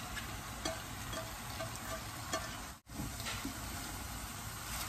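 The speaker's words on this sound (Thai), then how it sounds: "คนให้เข้ากันนะคะแล้วก็จะเติมต้นหอมผักขึ้นช่ายนะคะ" Curry-powder shrimp stir-fry with spring onion and celery is stirred in a hot pan, giving a soft continuous sizzle with scraping strokes, faint and steady, broken by one brief dropout midway.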